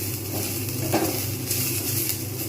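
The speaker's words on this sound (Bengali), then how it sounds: "পেঁয়াজগুলো যতক্ষণ পর্যন্ত না লাল হচ্ছে ততক্ষণ পর্যন্ত আমি কিন্তু একটু ভেজে নেব" Onions frying in a pan on the way to browning, before water spinach greens go in, give a steady close hiss of sizzle with a few faint clinks of a spoon against the pan, and nobody speaks.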